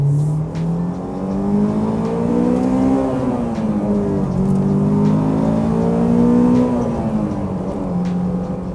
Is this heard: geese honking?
no